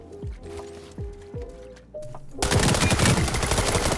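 Rapid SMG bursts from a rifle in the World War 3 video game, loud and close. Short tonal cues and thumps come first, then sustained automatic gunfire takes over the second half.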